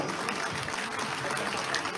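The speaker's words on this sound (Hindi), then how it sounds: "एक बार जोरदार तालियां देव जी वास्ते" Applause fills a hall at a live devotional Mata darbar at Shri Devi Talab Mandir in Jalandhar, a steady clatter of many clapping hands that runs throughout, with voices mixed in underneath.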